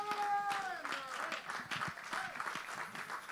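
A church congregation claps and cheers during a sermon, scattered applause with voices calling out, following a sustained tone at the start, moderately distant.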